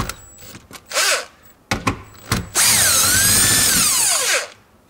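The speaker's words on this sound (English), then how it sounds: "And now I use also electric" An electric screwdriver removing bolts on a Toyota Corolla gear stick cable cover, with short taps and clicks followed by a loud, steady whirring run that winds down.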